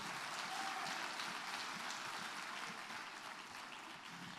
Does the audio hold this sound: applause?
yes